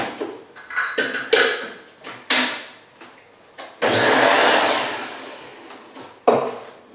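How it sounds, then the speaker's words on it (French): Flour and sugar being mixed by hand in a bowl for brioche dough, a run of short scraping and clattering stirs followed by a longer, louder whooshing churn, all close up with no talking. "Je vais mélanger un peu."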